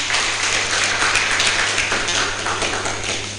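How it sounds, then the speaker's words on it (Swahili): An audience at a ward-level political debate breaks into applause: dense, steady clapping from a crowd that fills the whole stretch, loud and close, with no talk over it. "Tupigie makofi."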